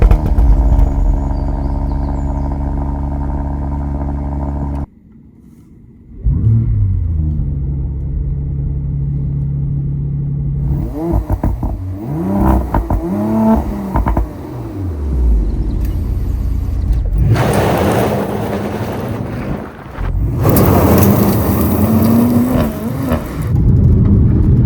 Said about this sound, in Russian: Послушаем звук выхлопа,